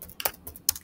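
Quick bursts of keystrokes on a computer keyboard while writing in office software, a few sharp close clicks in uneven rhythm with no talking.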